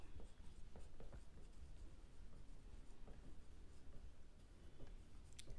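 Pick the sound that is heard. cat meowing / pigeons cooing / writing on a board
writing on a board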